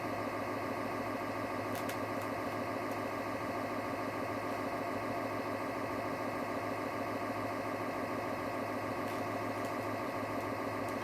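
Bus engine droning in the Desert Bus 2600 video game, a steady, unbroken mid-pitched hum with faint clicks, monotonous and constant.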